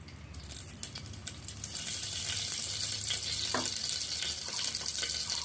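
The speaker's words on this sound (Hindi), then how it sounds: "अब मैं इसमें 5 फोरन का तड़का लगाऊंगी।" A steady crackling sizzle of panch phoron spices frying in hot oil for a jackfruit dish, with faint clinks and rattles, close by and continuous.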